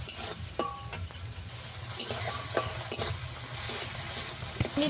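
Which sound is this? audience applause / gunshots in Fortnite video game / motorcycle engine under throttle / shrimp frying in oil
shrimp frying in oil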